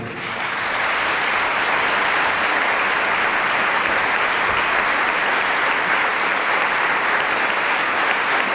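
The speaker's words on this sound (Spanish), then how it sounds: "Recibimos con un fuerte aplauso en el día de hoy" An audience in the Argentine Congress gives a strong, sustained round of applause that builds quickly and holds loud and even throughout, with no talking over it.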